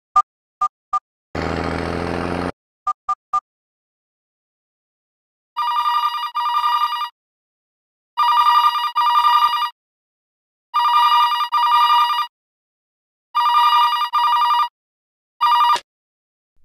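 Dial tones beep briefly after a number is keyed, then a telephone rings in five long buzzing bursts spaced a couple of seconds apart, clear and close in an otherwise silent room.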